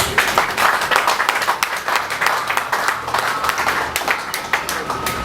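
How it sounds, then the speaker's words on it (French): An audience at a public ceremony breaks into vigorous, sustained applause, thick overlapping claps rising and falling with a few voices underneath. "Nous pouvons encore applaudir."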